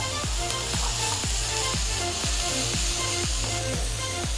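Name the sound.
stirring seasoning in a frying pan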